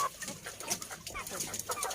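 KUB chickens cluck in short repeated bursts over a busy, noisy farmyard background, fairly faint and continuous with no clear speech.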